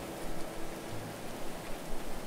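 Rain in the game Going Medieval falls as a soft, even hiss with a faint low rumble, steady throughout and without speech.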